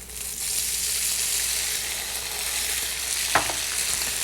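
Tofu chunks pan fry in hot oil with a loud, continuous, close sizzle and one brief stirring scrape near the end.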